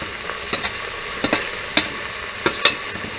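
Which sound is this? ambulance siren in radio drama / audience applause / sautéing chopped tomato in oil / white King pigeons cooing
sautéing chopped tomato in oil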